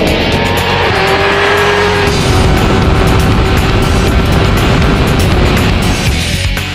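A Honda Fireblade motorcycle and a fast car accelerating hard at speed, a loud, close, sustained engine roar with rising whine and tire noise, no talk.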